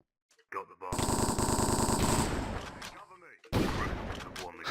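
Pump shotgun fire in a Minecraft remake of CS:GO, a loud sustained burst of overlapping blasts that fades out, then a second burst starts abruptly; a voice may be mixed in.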